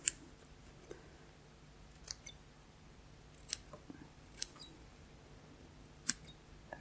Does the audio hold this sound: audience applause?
no